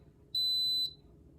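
An electric multicooker gives a single clear, high-pitched electronic beep about half a second long as it switches on to start heating navy beans, over a faint low background hum.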